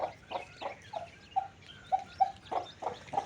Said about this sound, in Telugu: చిన్న కోడి పాప చూద్దురా